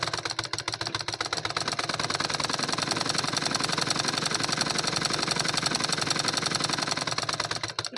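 A sewing machine stitches a cotton lining blouse, its needle hammering in a rapid, even mechanical rhythm that carries on continuously at close range, with a brief slowdown near the end and no talk.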